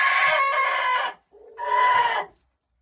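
Hens in a coop give two loud bursts of clucking and squawking, close by, separated by a brief pause, with no talk.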